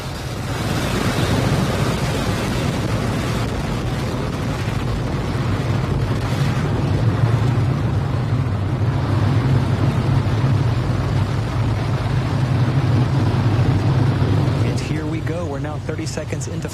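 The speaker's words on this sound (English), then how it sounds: "the Falcon 9, all engines are running at full power." A SpaceX Falcon 9 rocket at liftoff with all engines at full power, heard as a loud, continuous low roar and rumble with wind-like buffeting, steady and unbroken from start to finish.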